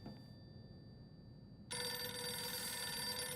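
In the Silent Hill f video game, a telephone suddenly starts ringing after a quiet, humming stretch, its bright, sustained electronic ring loud and close.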